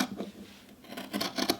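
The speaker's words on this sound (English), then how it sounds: "I'm going to use my nice fabric scissors now" Fabric scissors cut through fleece while lining a beanie, making a few soft close snips and blade swishes with a quick double snip near the end, and no talk.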